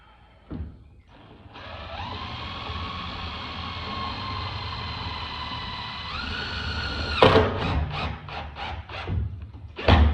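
A power screwdriver whines steadily for several seconds, rising in pitch as it bites, then a series of short buzzing bursts as screws are driven into a plastic van roof vent.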